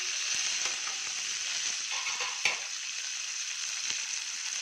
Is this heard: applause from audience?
no